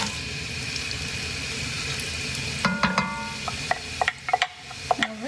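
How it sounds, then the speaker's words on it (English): Carrots and celery in a pot hiss with a steady low sizzle, then a utensil scrapes and clinks against the pot in a run of short irregular knocks toward the end. "And stir it a bit"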